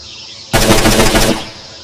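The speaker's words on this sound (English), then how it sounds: "Aim and fire at the simulated target." A rapid automatic burst of gunfire at a simulated target in the video game N.O.V.A., loud and close, lasting under a second before fading out.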